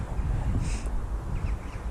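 Birds call outdoors in Greenland with a couple of brief, crow-like cries standing out above a constant rumble of wind noise.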